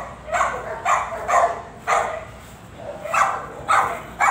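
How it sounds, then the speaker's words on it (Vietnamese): Dogs at a dog breeder's kennel where Alaskan Malamutes and Labrador Retrievers are kept, barking in a series of about eight sharp, evenly spaced barks at close range, with no talk over them. "nhiều loại chó đó các bạn ơi."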